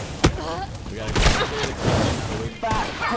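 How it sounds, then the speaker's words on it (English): Gunfire and explosions crackle in Red Dead Online as cowboys fight in the distance, with sharp scattered shots and a heavier burst near the middle, and a voice talking over the noise. "I see a lot of explosions over here. Oh, it's all the cowboys fighting."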